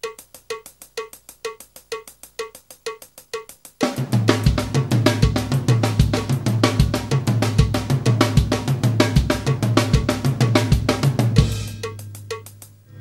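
A drum kit plays a repeating five-note figure over a rolling triplet groove, starting with sparse clicks before full drums kick in.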